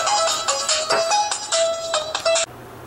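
A mobile phone rings indoors with a bright electronic ringtone melody in quick repeating bursts, loud and close, then cuts off abruptly, leaving a quiet room hum.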